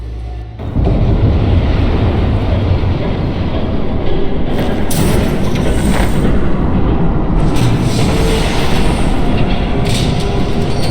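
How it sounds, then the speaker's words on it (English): A train rumbles past in a video game, a loud continuous roar of wheels and engine with metallic rattling, steady from start to finish. "There's a train coming."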